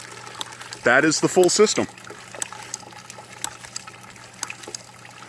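Water from a ram pump hose trickles and dribbles with a faint continuous splash, while someone talks briefly over it early on.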